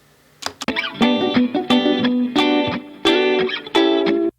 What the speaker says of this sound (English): And then finally we've got the two guitars here.